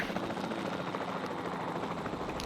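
Helicopter in the dinosaur park game Jurassic World Evolution 2, a steady, even rotor and engine drone heard alone at moderate loudness for the whole stretch.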